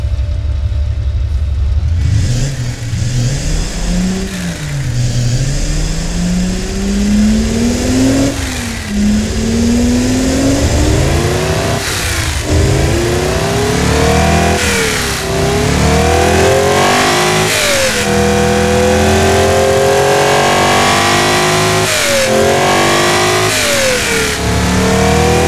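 Simulated 60-degree V engine in the game Automation revving steadily, rising and falling through repeated throttle sweeps with a smooth, continuous tone and no talking.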